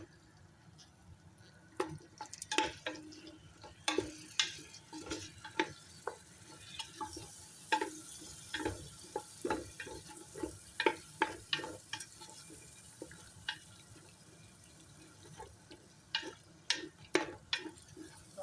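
Chicken is stirred and mixed into seasoning in a pan, heard as close, scattered clicks and scraping taps in irregular bursts over a faint, quiet background.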